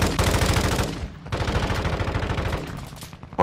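Gunfire in a shooter video game crackles in rapid, repeated bursts of shots, loud and close, with a short pause before the firing resumes.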